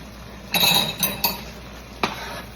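A lid goes onto a pot on the stove with a close metallic clatter, followed by a couple of lighter clinks and then one more brief knock.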